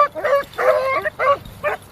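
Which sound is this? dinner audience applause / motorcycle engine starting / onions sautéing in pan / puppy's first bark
puppy's first bark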